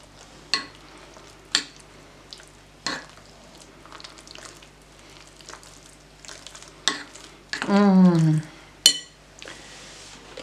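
A spoon stirs a drunken cherry cake mixture in a bowl with intermittent scraping swishes and sharp clinks against the side. A brief tonal vocal sound rises and falls near the end.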